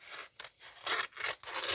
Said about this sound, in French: Peut-être ça sera mieux avec les ciseaux qu'avec le cutter.